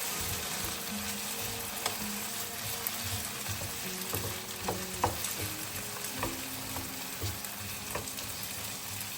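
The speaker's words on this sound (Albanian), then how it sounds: "Vazhdojmë t'i skuqim në temperaturë mesatare." Cubed potatoes fry in a little oil at medium heat, a continuous close sizzle with occasional pops and light stirring knocks, steady throughout and without any talk.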